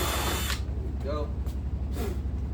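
A power drill bores a hole in wood for building a wood rack, a steady close whine that starts abruptly about half a second in and runs on over a low constant hum.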